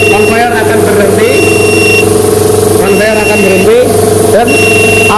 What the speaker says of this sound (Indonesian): dan alarm akan menyala, dan lampu merah akan menyala yang menandakan bahwa ada ketidaknormalan dalam proses produksi ataupun di dalam sistem